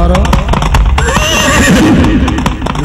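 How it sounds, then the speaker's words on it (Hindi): A horse neighs and whinnies loudly in a storytelling performance, close and prominent over a busy backdrop of clopping hoofbeats and other effects. "राजा भर्तृहरि बैठ लिए घोड़े पर और चल दिए शिकार के लिए"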